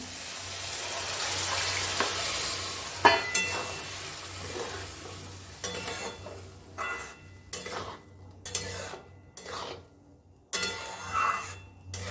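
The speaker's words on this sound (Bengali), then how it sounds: "এবার আমি ডালটা দিয়ে দিলাম।" Lentils dropped into fried spices for a Bengali mixed dal, a broad sizzle at first, then settling into intermittent stirring, spoon and pot clatter and a running tap, with gaps of quiet between bursts.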